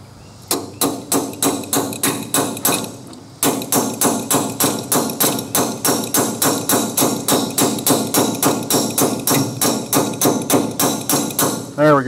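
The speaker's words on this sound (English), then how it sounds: "Might have to persuade it a little bit and tap it on there." Repeated sharp metal-on-metal taps as a socket is driven onto a Ford 8N tractor with a makeshift hammer, a steady rhythm of about two blows per second after a short pause, close and loud outdoors.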